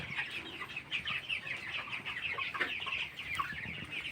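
A flock of 22-day-old broiler chickens in a poultry shed at night keeps up dense, overlapping clucks and chirps, close and continuous, with no talking.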